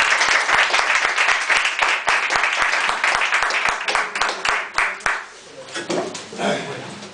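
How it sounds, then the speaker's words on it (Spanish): Audience at a Spanish book presentation claps in a loud, dense burst for about five seconds, then the applause fades out and a few voices murmur nearby. "Bueno, un aplauso"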